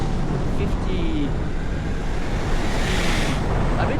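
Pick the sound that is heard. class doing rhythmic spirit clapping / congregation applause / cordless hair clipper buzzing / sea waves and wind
sea waves and wind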